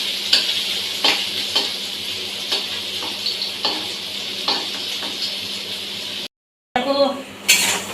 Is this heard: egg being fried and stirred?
yes